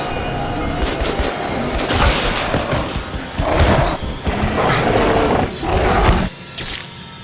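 Gunfire in the video game Metro: Last Light Redux comes as dense, sustained bursts of shots, loud and nearly continuous, with one brief drop near the end.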